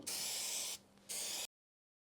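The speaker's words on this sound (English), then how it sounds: "We're going to spray into this crevice, and then I like to spray the actual return of the metal here" Spray adhesive blasting onto the metal pillar of a 2023 Ford Transit van: two close, loud hissing bursts with a brief pause between, then silence.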